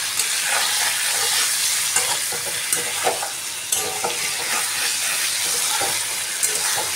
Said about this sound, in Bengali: এবার আমি কিন্তু এই সবগুলোই আস্তে আস্তে একসাথে ভালো করে নাড়াচাড়া করে হালকা হাতে ভেজে